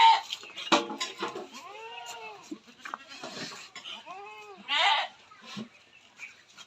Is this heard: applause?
no